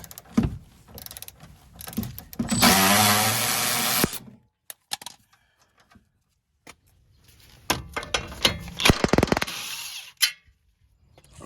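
A wrench working the 19mm and 17mm sway bar link bolts loose on a Hyundai Sonata: bursts of ratcheting and metallic clicks, one loud sustained stretch early on, then scattered clanks and a second busy spell, close up with no talk.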